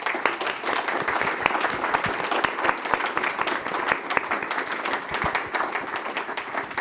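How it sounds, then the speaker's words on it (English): Audience applause after a panel discussion on using CBDCs and stablecoins across borders: a loud, dense, steady clapping from a crowd that continues unbroken, with no talk over it. "Give a big round of applause, everybody."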